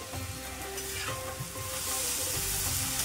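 Tomato sautéing with a crushed ginger, garlic and green chili paste sizzles steadily and loudly in the pan, with a constant hiss and occasional stirring scrapes, no voices.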